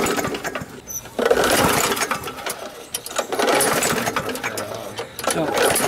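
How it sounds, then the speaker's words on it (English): A petrol lawn mower is pull-started repeatedly in a backyard, with rough rasping bursts of the cord and sputtering engine clatter that rise and fall in several loud surges, while a person talks nearby. "Fucking lawnmower."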